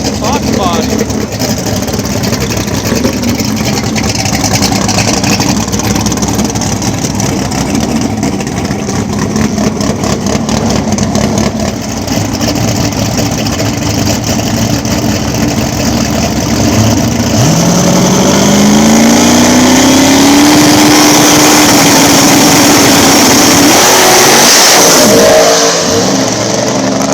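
Turbocharged box-body drag radial race car at a drag strip, engine roaring loud and continuous with a rising rev sweep near the end, crowd and announcer noise mixed underneath.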